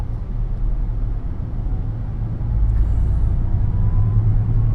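A 2019 Audi e-tron all-electric car accelerating hard, heard from inside as a steady low road and tire rumble that swells noticeably halfway through, with no engine note.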